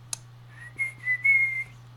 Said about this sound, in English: It's like when people can whistle really well.